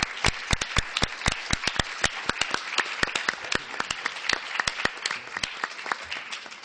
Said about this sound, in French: je demande un petit applaudissement pour eux